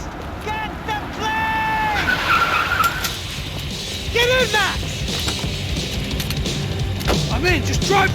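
Car skidding and driving in the video game Max Payne 3, with repeated tire squeals over a continuous engine and road rumble, alongside speech and shouting.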